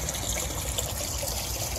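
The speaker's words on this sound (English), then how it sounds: "there's the custom waterfall." Water from a custom-built turtle pond waterfall fed by two canister filters, a continuous close, full splashing and trickling rush that stays even throughout with no voices.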